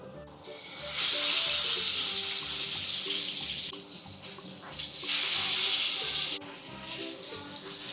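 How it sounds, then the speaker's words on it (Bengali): Fish fries in hot oil for a Bengali mustard fish curry, giving a loud, steady sizzling hiss that surges at a few points and continues without any voice. "এবার চলো মাছ ফ্রাই করি।"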